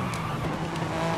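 A Honda car races in Forza Horizon 5 online, its engine droning steadily with a faint tire skid over it, continuous and close for a brief moment.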